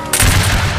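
Musket volley fired on command in a Revolutionary War battle game at Camden: a dense, loud crackling burst of many shots at once that swells and rolls on for under a second.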